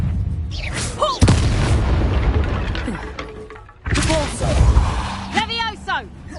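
Magical spell effects during Hogwarts Legacy combat: the Levioso levitation charm cast amid a duel, heard as heavy thumping booms and whooshing bursts in two clusters, with character voices speaking between them.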